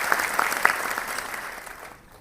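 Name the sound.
audience applause at award ceremony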